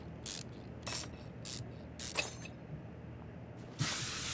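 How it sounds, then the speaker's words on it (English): Ratchet wrench work on a car fan in Car Mechanic Simulator 2021, quiet bursts of clicking ratchet and mechanical clatter at irregular intervals over a low background hum, ending in a short hiss, with no talking. "First we got to pull the fan off."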